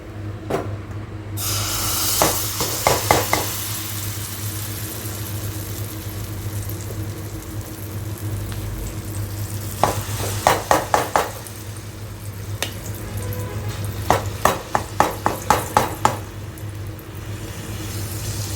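A palm fruit roti made with Bellary jaggery fries in hot oil in a pan, giving a soft continuous sizzle with a steady low hum, broken by occasional clusters of light scraping and tapping from the pan.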